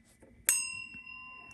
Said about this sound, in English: I'm going to go ahead and ring the bell for additional good juju in 3, 2, 1.